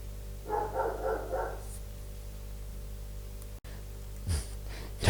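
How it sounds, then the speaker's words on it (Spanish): A dog barks a quick burst of three or four yaps, then goes quiet before a few fainter sounds follow, heard at a moderate distance over a low steady hum. "Pasa una mosca y ladra, y no quiere entrar y sigue ladrando."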